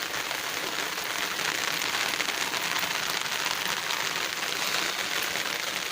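Heavy rain pours down steadily outdoors while fish are being cleaned, an even, dense hiss of drops on surfaces with no pauses and no talking.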